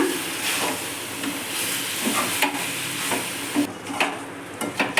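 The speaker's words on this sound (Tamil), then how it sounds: "எல்லா மசாலாவும் வந்து நம்ம காடையில் படுற மாதிரி பெரட்டி விட்டாச்சு" Quail pepper fry is stirred and tossed with freshly ground masala in a hot pan, a close scraping and sizzling that repeats in steady strokes with a light hiss throughout and no talking.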